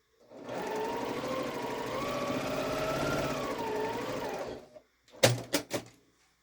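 A sewing machine runs steadily for about four seconds while quilt block rows are stitched together, a close, even mechanical whir that stops, followed by a few sharp clicks and taps.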